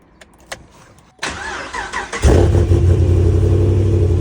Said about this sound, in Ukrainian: заведемо цього дракона, щоб пропердівся трохи